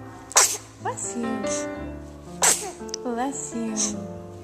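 Two sharp sneezes, apparently from a child, burst out about two seconds apart, with an adult woman's speech around them in a home setting.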